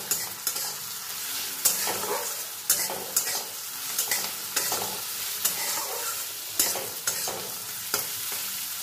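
Crushed garlic and onion sizzle steadily in hot oil in a pan while a spatula stirs them, giving a constant close frying hiss punctuated by regular scraping strokes about once a second, with no talking.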